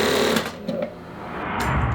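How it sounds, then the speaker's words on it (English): Industrial sewing machine with a reinforced steel needle stitching the leather of a WWII B3 bomber jacket, a steady, close mechanical rattle running throughout. "The machine advances like a tank, crushing the tough wool."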